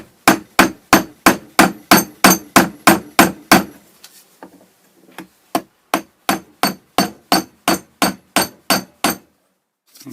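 A hammer strikes a saw-blade knife handle in steady, evenly spaced taps, close and sharp. A run of about a dozen blows is followed by a brief pause, then a second run.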